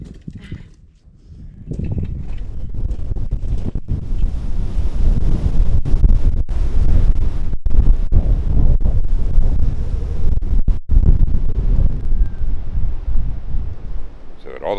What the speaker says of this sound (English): of a sudden got really windy